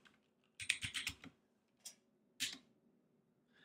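Someone types a sudo command on a computer keyboard, a quick close burst of key clicks followed by a couple of separate keystrokes, one of them a firmer final press, in a quiet room.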